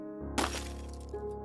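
Glass window of a car shattering, a single sharp crack bursting into a bright spray of breaking glass, with tinkling fragments trailing off over a low steady hum.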